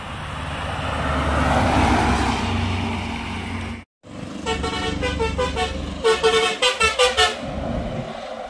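Luxury buses pass along the NH-66 highway in Konkan: an engine roar swells and fades, then a quick series of loud rhythmic horn blasts sounds close by.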